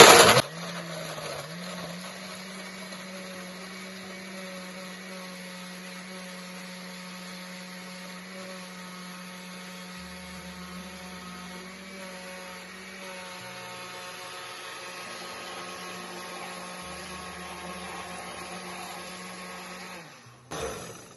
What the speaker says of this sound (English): I'm going to go straight into blending